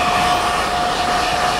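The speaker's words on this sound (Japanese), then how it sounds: "ドライヤーの風を利用してしっかり" A hair dryer blows steadily and loudly at close range while drying bob-length hair, a constant whooshing airflow with a thin motor whine throughout.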